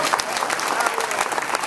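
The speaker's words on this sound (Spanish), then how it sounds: "Aplauso fuerte que se siente en todo el país" Strong, steady applause from an audience at a Dominican broadcasters' award ceremony, continuous dense clapping throughout with crowd noise and faint voices mixed in.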